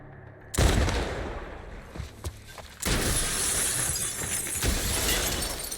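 Gunfire from The Last of Us Part I: a loud close blast followed by sharp cracks, then a second heavy burst with a sustained crashing, shattering roar.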